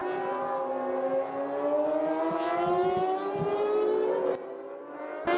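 Red Yamaha Superstock 600 racing motorcycles at Silverstone rise steadily in pitch as they accelerate past close by, their engines loud and continuous before the sound drops near the end.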